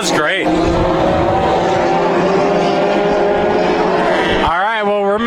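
Mini stock race cars roar around a speedway in a continuous, loud, dense engine drone with rising and falling pitch, while a race commentator talks over the noise.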